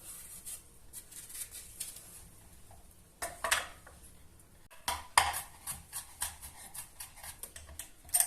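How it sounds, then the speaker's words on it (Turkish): A knife chops a hot chili pepper on a board during lahmacun preparation, quiet scattered taps and scraping that grow into quicker, sharper cuts toward the end. "Və indi acı biberi doğramaya başlayıram."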